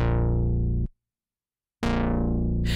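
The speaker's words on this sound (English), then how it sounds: "It's kind of adding that acid electronic sound" Moog-style synth bass from the Mini plugin, with a thick buzzy harmonic-rich tone in two loud sustained blasts split by a short silence, the second opening brighter near its end.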